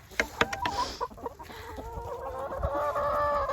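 Backyard chickens cluck and murmur close by, with a few sharp calls at first giving way to a steadier run of warbling clucks, all fairly quiet with no voices.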